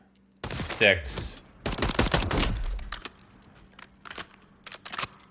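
XM8 rifle in Call of Duty: Modern Warfare III fired in semi-auto, a quick run of sharp shots followed by sparser single cracks and clicks, with a voice briefly counting over the shots.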